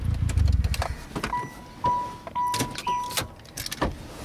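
A manual car's engine being switched off: a low idling rumble cuts out after about a second, followed by clicks and a series of short electronic chime beeps in the quiet cabin.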